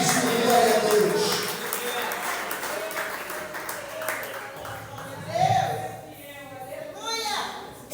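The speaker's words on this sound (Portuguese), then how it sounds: "que as palmas bem forte com amor, glória e agradeça o nome do Senhor Jesus Cristo." Church congregation clapping during a Portuguese-language worship service, a soft, diffuse applause with speech running over it throughout.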